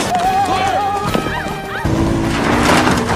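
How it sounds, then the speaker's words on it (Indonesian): Horse with a rider fleeing on horseback during an escape scene, with a high whinny-like call early on, then hoof-like thuds and a crash against a noisy, music-filled background with shouting voices. "Mason pun memutuskan untuk menyelamatkannya dengan menaiki kuda dan bermaksud untuk membawanya kabur"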